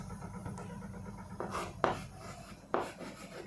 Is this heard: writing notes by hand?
yes